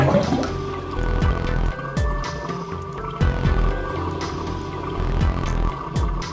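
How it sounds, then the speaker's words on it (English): Water drains from a vase in the video game 999, with gurgling, dripping liquid sounds pulsing at a steady pace over a low ambient background. "Why don't we just drain this water?"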